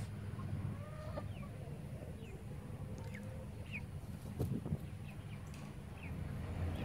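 Chickens from a newly mixed flock cluck and chirp softly in short scattered calls, some near and some farther off. The calls sit over a low steady outdoor rumble, with a brief louder burst of clucking near the middle.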